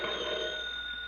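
Old crank telephone bell ringing on a party line, one continuous bright metallic ring, near and fairly loud, with no talking over it.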